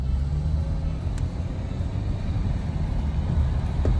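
A car drives along the road with a steady low rumble and road noise, constant and close, with no talk over it.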